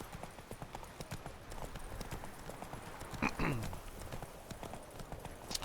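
A horse trots in The Witcher 3, its hooves clip-clopping in a steady rhythm under game ambience, with a brief whinny partway through.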